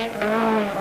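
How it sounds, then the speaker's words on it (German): A Saab 99 16-valve rally car slides sideways on a rally stage, its engine a steady, strained high-revving drone held close and loud for under a second. "In der Schwede Stig Blomqvist auf seinem neuen 16-Ventiler Saab 99. Er fährt fast schulmäßig quer"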